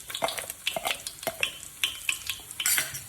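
Cumin and mustard seeds crackle in hot oil in a pot for a Maharashtrian pavta rice dish, with sharp, close spitting pops and small clinks of a utensil over a steady sizzle, no talking.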